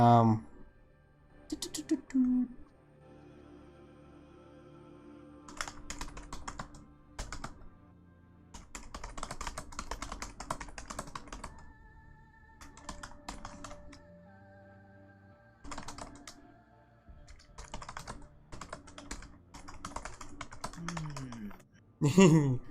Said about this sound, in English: Let me just type what's happening.